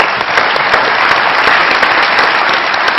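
Studio audience applauding on a Pakistani comedy talk show, steady dense clapping filling the whole stretch at full loudness with no talk over it.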